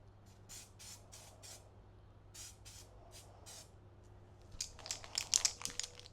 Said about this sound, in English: give it a good test spray first.